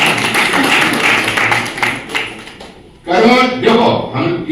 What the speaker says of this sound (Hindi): बाहर ताली बजाओ।